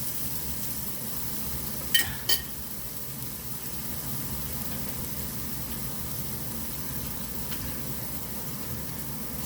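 Burger patties sizzle in a pan after being flattened with the back of a spoon, a steady broadband hiss running throughout at moderate level, with two brief sharp clicks near the start.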